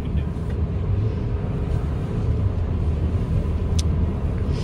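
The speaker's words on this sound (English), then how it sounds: "See what this 4-cylinder can do." A 2024 Chevrolet Traverse all-wheel drive with a 4-cylinder engine accelerating, a steady loud engine rumble with road noise that holds throughout without talk.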